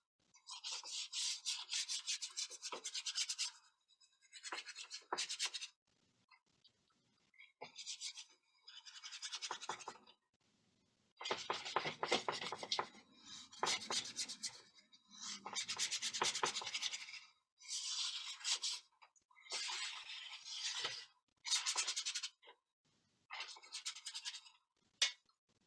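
A paintbrush sweeping across paper in broad and thin strokes, close dry scratchy brushing in short bursts separated by quiet pauses.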